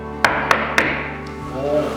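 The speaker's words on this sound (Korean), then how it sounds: "예, 꺼졌는데 제가 노크를 한번 해볼게요." Three quick, evenly spaced knocks on a clock's casing, rapping it to wake the clock from power-saving mode, close and fairly loud, followed by a faint electronic chirp.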